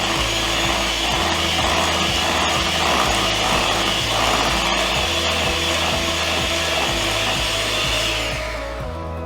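An electric hand mixer runs through cake batter made with kumis, giving a loud, steady motor whir that lasts throughout and eases off near the end, with no talking.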